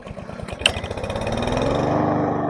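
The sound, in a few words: Troy-Bilt tiller engine running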